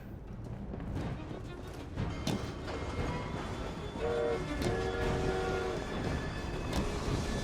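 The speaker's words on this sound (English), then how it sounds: "Nice, the train." A train rolls past in Assassin's Creed Syndicate, a continuous rumble and rattle of rail cars with a brief whistle-like tone midway, steady and fairly close.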